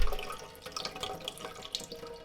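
Water draining from freshly rinsed rice into a sink, an uneven close trickle with scattered splashes and drips, starting with a louder pour and settling into softer dribbling.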